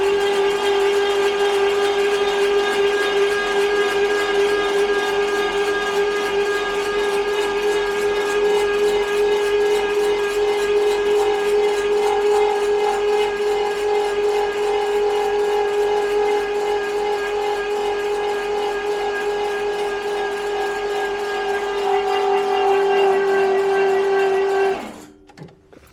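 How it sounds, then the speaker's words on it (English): A steady, loud mechanical whine from a 1977 V12 coupe engine cranking, its fan rubbing on a low fan shroud, with a constant droning tone and rapid rubbing flutter, running unbroken for a long stretch before cutting off at the end. "The sound you're hearing is the fan shroud's a little low."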